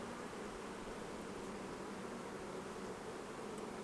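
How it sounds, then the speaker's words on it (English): Honey bees from a strong colony buzzing around a hive frame with emerging brood, a soft continuous hum of many insects close by, steady and faint with no voices. "lots of bees emerging from this one right here"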